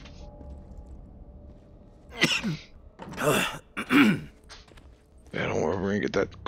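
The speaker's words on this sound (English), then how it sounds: "we're gonna get that cough taken care of" A character in The Walking Dead: Saints & Sinners VR coughs and clears his throat in several short, rough bursts, each followed by a strained gasp, over quiet game ambience.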